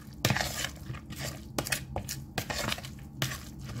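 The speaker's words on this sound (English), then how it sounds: "And then I'm just going to mix that all up." Avocado mash stirred with cilantro in a bowl, a series of irregular clinks and scraping taps of a utensil against the bowl, close and moderately quiet.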